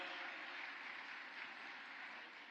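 An audience claps steadily at an ISKCON temple inauguration, a dense, even wash of applause at moderate distance, with no other sounds standing out.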